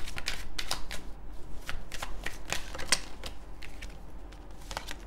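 Tarot cards shuffled and handled in a continuous, close-up flurry of crisp riffling snaps with no talking over it.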